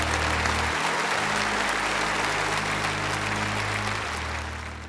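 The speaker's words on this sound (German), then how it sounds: "Ein Applaus für sie." Audience applause in a church Easter service right after a baptism, a steady wash of clapping that fills the room for about four seconds, then tapers off, with a low organ or keyboard tone underneath.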